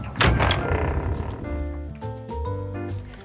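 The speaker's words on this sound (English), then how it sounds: "she shrugs and opens a door." A door in the video game Love and DeepSpace opens with a soft thunk and a sliding rush, then gives way to a low, tonal ambient score.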